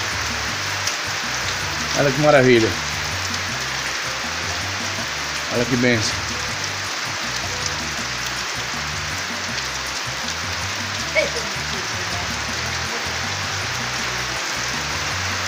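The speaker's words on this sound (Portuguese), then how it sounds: "e a chuva caindo." Rain falls steadily on a rural farm with cattle and green corn, a dense continuous patter close by, with a few short spoken phrases over it.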